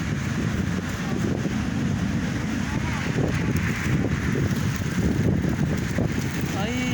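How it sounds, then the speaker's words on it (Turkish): Strong, cold wind roars across an outdoor park, buffeting the microphone in a loud, constant rumble with small gusty swells and faint, indistinct voices beneath it. "bu arada dışarısı çok soğuk ve çok aşırı derecede esiyor"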